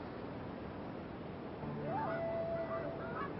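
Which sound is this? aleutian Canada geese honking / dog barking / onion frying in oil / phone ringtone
aleutian Canada geese honking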